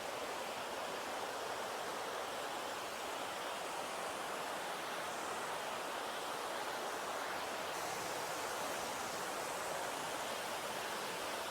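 Thenkuzhikuthu waterfall, above Thommankuthu, gives a steady, even rush of falling water that holds at a constant level throughout, with no voices.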